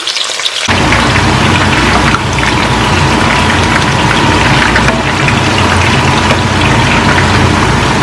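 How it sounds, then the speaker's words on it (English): Onions deep fry in about two cups of cooking oil in a large pan, making a dense, loud, continuous crackling sizzle that starts abruptly and holds steady throughout, no talking. "In a large pan, add 2 cups of cooking oil and deep fry your onion."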